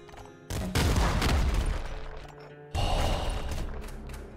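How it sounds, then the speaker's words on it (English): Grenade rifle fire in the video game Nuclear Throne: two loud, booming bursts of blasts and crashing explosions, each ringing on for a couple of seconds. "maybe grenade rifle isn't so bad"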